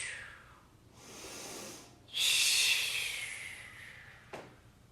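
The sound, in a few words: exhaled breathing during Pilates exercise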